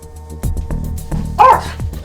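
A dog that was once used as a hunting dog and is fearful of strangers gives several short, close barks and yips in quick succession, with a whimpering, higher-pitched cry partway through.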